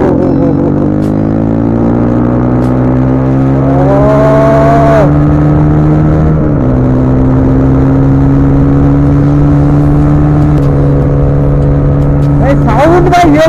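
A KTM Duke 250 motorcycle engine holds loud, close, sustained high revs during a long wheelie, rising briefly and dipping midway before settling again, with wind buffeting over the steady engine tone.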